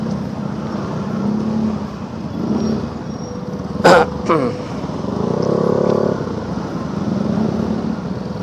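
Morning commute traffic between Bekasi and Jakarta near the Kalimalang tunnel bridge, with a Yamaha NMAX scooter riding ahead. A steady engine and road rumble is heard from inside a car, with a brief sharp knock midway.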